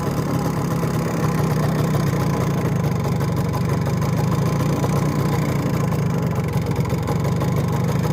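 An MZ 150 motorcycle engine idles steadily and close up, its fast even putter holding a constant level throughout with no voices.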